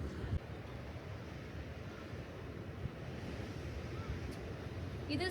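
Ocean surf rolls along the Sydney coast on the Coogee to Bondi walk, a continuous low wash of waves with wind buffeting the microphone, soft and distant, with no voices.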